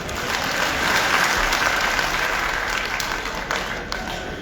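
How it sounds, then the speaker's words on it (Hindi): Applause from the crowd at a political gathering, a loud, continuous roar of clapping filling a few seconds with no clear break. "तालियां तो बजाओ इसका।"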